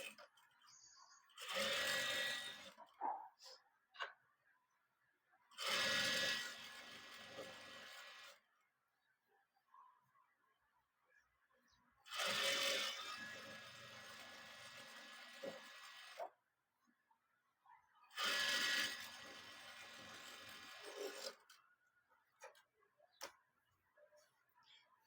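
A sewing machine runs close by in four sustained bursts as it stitches down the lining of a boat neck, its rapid mechanical whirr and ticking broken by short pauses between runs.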